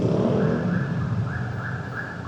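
A small yellow Vespa scooter engine runs close by in Saturday traffic, a steady buzzing drone with a rising, whining tone that pulses slightly.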